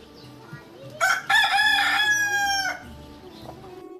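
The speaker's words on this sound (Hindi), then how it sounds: "आज तो मुर्गे के बांग देते के साथ मैं भी उठ गई।" A rooster crows once, loud and close, a long harmonic call rising then holding before cutting off, with quiet background sounds around it.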